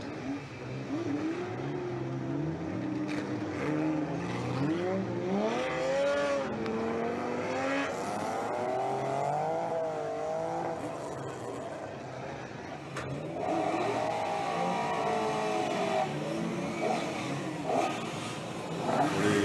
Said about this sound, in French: Les voitures se mettent en place